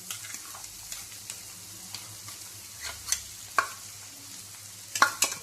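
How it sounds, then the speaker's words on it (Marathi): Ground lentil paste going into a hot pan with coriander powder and being stir-fried, a steady soft sizzle with occasional spatula scrapes and clicks, no voices. "आता ही वाटलेली डाळ आपण ह्याच्यात घालून घेऊ।"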